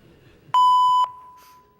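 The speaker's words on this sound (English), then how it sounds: "Leave a short message after the tone" A single answering machine tone sounds: one steady, clear beep of about half a second, then a faint fading tail in an otherwise quiet room.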